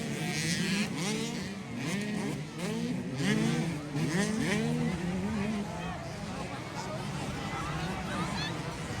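An 85cc motorcycle racing engine at a race in Lantapan, Bukidnon, revving up and down in rapid rising and falling sweeps, fairly loud throughout, with an excited commentator talking over it.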